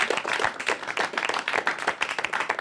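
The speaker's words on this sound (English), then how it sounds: "so round of applause for Scott Limbrick, everybody." An audience applauds and claps at a comedy news show, a dense, continuous patter of many hands at moderate loudness with no talk over it.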